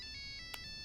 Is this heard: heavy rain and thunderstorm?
no